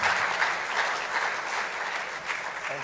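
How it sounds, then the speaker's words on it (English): A conference audience at the Africa Job Creation and Trade Conference in Abuja claps steadily in a dense, sustained round of applause that fills the hall from start to finish, loud and without pauses. "Can we give a bigger round of applause?"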